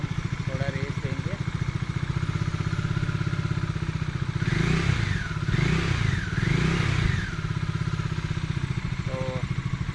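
A Bajaj Dominar 400 motorcycle idles with a steady, throbbing exhaust, then revs up three times in a rising and falling pattern before settling back to idle. The engine is loud and close, and a few faint voices are heard.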